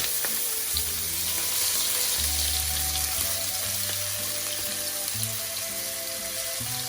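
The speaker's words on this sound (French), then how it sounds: "quand l'huile est chaude, j'y verse mon ail et mon gingembre" Garlic and ginger crackle and sizzle in hot oil, a constant bright hiss with small pops, while a steady low hum and tonal drone run beneath it throughout.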